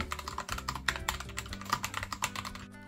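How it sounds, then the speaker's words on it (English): Steady typing on a Satechi keyboard with tactile clicky keys, rapid even keystrokes running for a few seconds, close and moderately loud over a faint low hum, no talking. "this has a nice tactile keys that provide satisfying click, and at the same time, they're not too loud."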